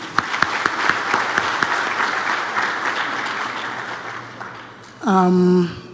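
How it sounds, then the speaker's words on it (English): Applause fills the hall at a science congress on commercial and rural development, sharp claps over a broad crowd wash that fades gradually before a speaker's voice comes in near the end. "Can we clap again for the MEC?"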